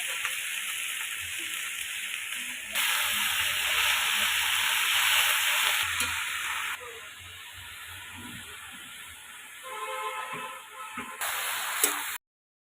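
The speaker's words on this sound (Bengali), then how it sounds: "এদিকে সবজিগুলো ভাজা হচ্ছে।" Vegetables frying in a pan in a home kitchen, a continuous close sizzle and hiss that swells louder midway, then settles with occasional stirring clatter before cutting off.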